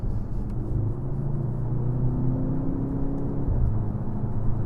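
AMG plug-in hybrid car accelerating at about half throttle with gears shifted manually, a steady loud engine drone and rising whir close by throughout, with no talk.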